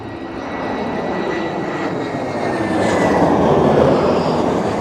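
An airliner pulls out of a rejected landing in high winds at Heathrow Airport: a loud, steady jet engine roar mixed with gusty wind noise, building toward a fuller, heavier rumble near the end.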